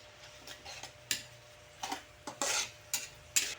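A spoon scrapes and clinks against a container as sugar goes into Spanish-style dilis sardines, with a few sharp taps spaced irregularly over a low steady background hum.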